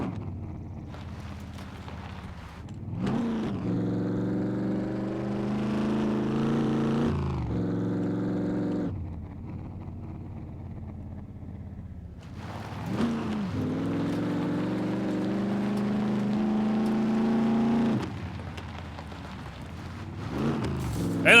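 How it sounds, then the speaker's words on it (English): Truck engine in the survival game SCUM, droning and revving loudly in long stretches with brief drops between, close and dominant with no talk over it. "And I know the truck is loud"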